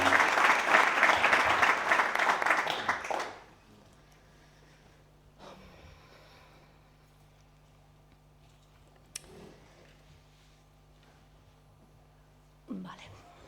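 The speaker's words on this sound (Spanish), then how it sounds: "Un aplauso para ella." Audience applause welcoming a speaker at a mystery-themed conference session: a burst of clapping for about three seconds that cuts off quickly, followed by a quiet room with faint rustles.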